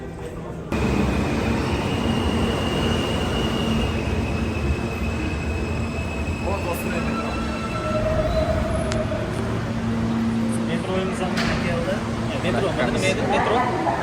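A New York subway train arriving at a station, a continuous loud rumble and screech of wheels on rails with station hubbub and people talking over it.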